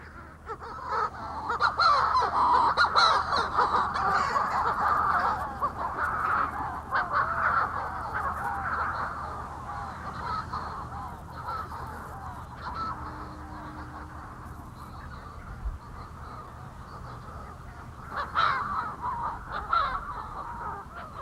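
Shearwaters calling to their mates at night outside their burrows, a dense, continuous chorus of harsh, croaking cries from many birds, loud and steady for the full stretch with no voices.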